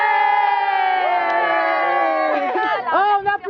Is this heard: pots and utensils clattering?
no